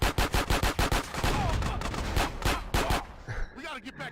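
Drive-by gunfire in GTA Definitive Edition on Switch: rapid bursts of automatic shots in a quick rhythmic string, then scattered further shots and a trailing rumble, loud and close.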